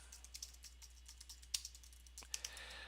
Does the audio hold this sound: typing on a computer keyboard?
yes